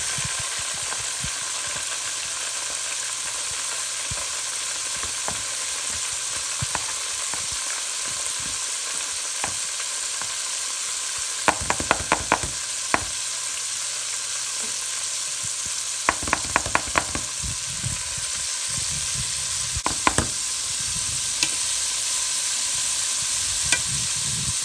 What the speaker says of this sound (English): drop them back in the oil, and this is going to be our final cook.